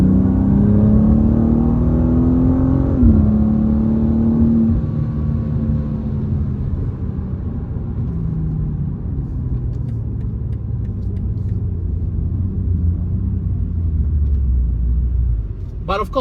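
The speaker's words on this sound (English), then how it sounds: "you're able to extract very pleasant exhaust notes even at a fairly pedestrian pace" A 2023 BMW M2 engine rumbles loudly from inside the cabin, its exhaust note rising in pitch as it accelerates at modest road speed, then settling into a steady low drone.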